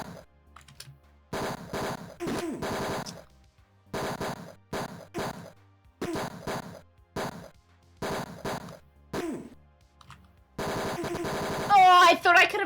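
Gunfire in a sci-fi video game: repeated short bursts of rapid shots separated by brief pauses, loud and close, with a louder electronic clatter and warbling tones at the end.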